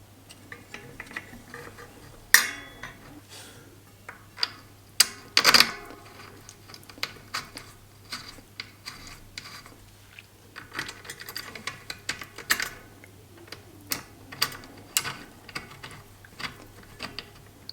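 Small metallic clicks, taps and ratcheting from fitting and tightening a SRAM bicycle disc brake pad retainer screw, scattered sharp ticks close by against a quiet background, with a couple of louder knocks.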